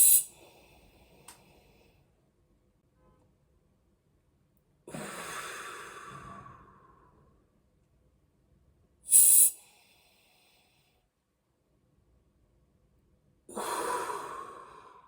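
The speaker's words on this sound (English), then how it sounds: "To control your breathing, you must breathe in through the nose" Controlled breathing through the nose, heard as slow, deliberate, close airy inhales and exhales alternating with long silences, with about four distinct breaths in all.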